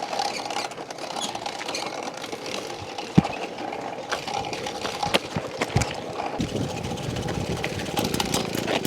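A 1957 Mobylette moped's small engine runs close by with a steady, buzzy putter, punctuated by a few sharp knocks and clatters.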